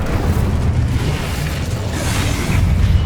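Incendio fire spell cast in the video game Hogwarts Legacy: a loud, sustained roaring rumble of flame and magic that stays dense and steady throughout, with no speech.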